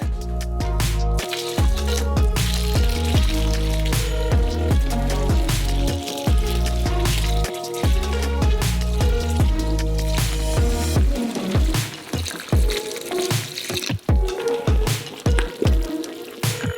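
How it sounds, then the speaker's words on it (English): Hot milk, about 8 liters, is poured into caramel in a large saucepan, giving sloshing, squishy liquid sounds. Steady music plays loudly over it throughout, and the pouring and bubbling become clearer near the end. "Now you just need to pour in 8 liters of hot milk."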